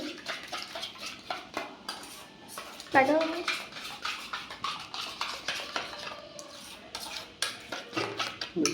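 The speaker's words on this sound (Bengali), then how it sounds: "দই দিয়ে মেনে করবে সেই জন্য দইটা এখন ফেটিয়ে নিচ্ছে" Yogurt is whisked in a bowl for a chicken marinade, giving steady rapid clinks and scrapes of a utensil against the bowl throughout, with voices talking faintly in the background.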